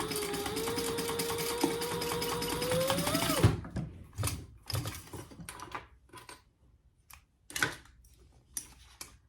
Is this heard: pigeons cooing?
no